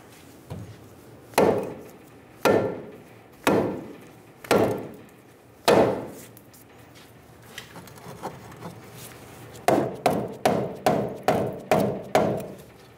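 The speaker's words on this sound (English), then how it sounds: "Using a soft face hammer, we're gonna bonk the knuckle down and get it off of the strut." A soft face hammer knocks the steering knuckle off the strut of a 2000-2007 Ford Focus in five heavy, spaced thuds, then a softer tapping run and a quick burst of six blows, loud and close.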